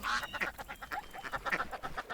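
Repeated duck quacks in quick succession, bright and close, with a slightly synthetic game-like quality from Minecraft with a Naturalist animal add-on, and no talking.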